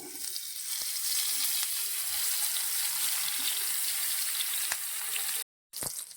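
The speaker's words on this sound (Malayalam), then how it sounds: "അപ്പോൾ നമ്മൾ ഇത് ഫ്രൈ ചെയ്യാൻ പോവാണ് എണ്ണ ചൂടായിട്ടുണ്ട്" Thuli (pullan) fish frying in hot oil in a pan, a steady dense sizzle and crackle with occasional pops, fairly close and continuous, with no talking.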